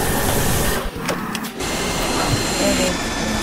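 A BEKO vacuum cleaner runs loudly up close while vacuuming a carpet, a constant whooshing motor roar that briefly dips as the nozzle shifts, with people speaking over it.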